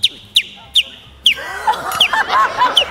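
A voice mimics a bird-call doorbell chime: four sharp, evenly spaced whistled chirps, then a busier flurry of warbling, bird-like whistles.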